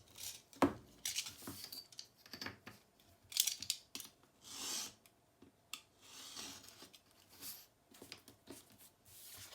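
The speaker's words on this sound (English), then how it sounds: "we're going to trim off the excess and then pull it around" Scissors snip and slide through excess cardstock in short, irregular cuts, close and fairly quiet, with light paper rustling between cuts and no talking.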